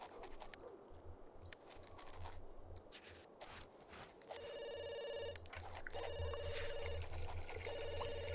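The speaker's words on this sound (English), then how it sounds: "Well, you can answer the phone, Carson." A telephone rings in a life-simulation video game, a repeated electronic trilling bell in two bursts over soft background music and faint game sounds.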